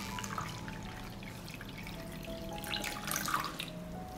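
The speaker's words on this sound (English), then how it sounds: "I pour lukewarm water up to the height of the lid" Lukewarm water pours into a pot holding hot glass jars, filling it up to the height of the lids: a faint, steady trickling and splashing with a few brighter spurts near the end.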